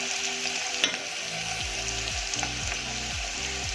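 Ridge gourd sabzi with onion fries on high flame, a loud, steady sizzle with regular stirring scrapes against the pan, close up and with no talk.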